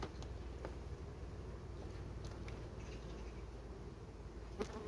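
Honeybees from a swarm colony with a Buckfast queen buzz around the hive in August. A soft, steady drone runs throughout, with faint, brief passes of individual bees flying close.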